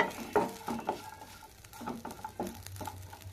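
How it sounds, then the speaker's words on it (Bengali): Semolina is stirred in a pan with a few quick, uneven scrapes and light clinks, up close and fairly quiet, with no voices. "এইভাবে ঢাকা দিয়ে দিয়ে আমি কিছুক্ষণ নাড়াচাড়া করে নিচ্ছি"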